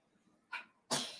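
Two sneezes burst out close by, a short sharp one followed by a louder, fuller one with a trailing hiss, alone against a quiet background.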